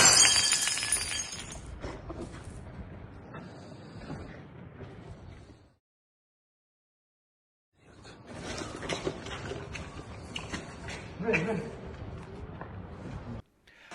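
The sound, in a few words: glass bottle breaking during a street fight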